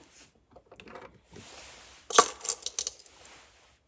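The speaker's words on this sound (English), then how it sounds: "loading our BBs pretty easy. Okay, they kind of snap into the end of that cartridge" Metal BBs snapping into the end of a Barra Schofield BB gun cartridge: soft handling rustles, then a burst of several sharp, bright metallic clicks and ticks close up, fading to quiet.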